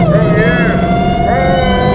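Car engine with a supercharger accelerating hard, a loud steady roar with a rising, siren-like whine that sweeps up twice, while a voice talks over it.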